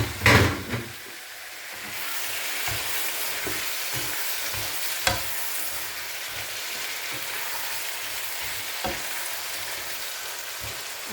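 Zucchini frying in a pan, a steady crackling sizzle running throughout, with a few knocks at the start and occasional light taps of a utensil.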